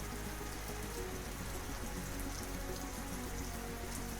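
Rain falling on the savannah, a steady, even patter of drops on the ground, faint and continuous with no voices.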